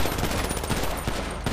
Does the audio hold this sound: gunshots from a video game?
yes